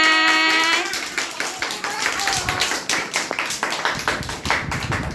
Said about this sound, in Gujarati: આપણે બાળકો તાળી પાડો બધા